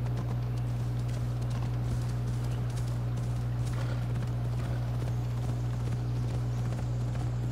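Steady clip-clop of horse hooves trotting along in the video game Assassin's Creed Odyssey, backed by a constant low electronic hum with no one talking.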